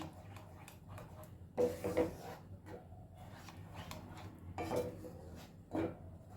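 Spinach and spices stirred together in a pan over a medium flame, giving quiet scraping and occasional metallic clinks at an uneven pace, close but soft, over a low background hum.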